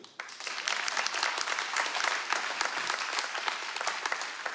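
A theatre audience at a comedy show claps in a dense, lively burst, sharp individual hand claps standing out within a steady wash of applause that holds loud from start to finish.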